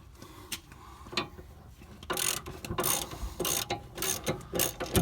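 A spanner ratchets on a suspension bolt of a Chrysler 300C during a bush replacement, a quiet run of close clicking pawl sounds, sparse at first and then coming in quick repeated bursts.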